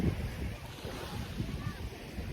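Gentle waves wash ashore at Nato Beach on a calm morning, a steady low surf rumble mixed with wind buffeting the microphone, with no distinct talk.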